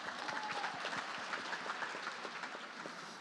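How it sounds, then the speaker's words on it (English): An audience applauds a panelist at a creative-industry panel talk: dense, steady clapping from many hands fills the room at an even level throughout, with no voices over it. "who I think deserves a round of applause too"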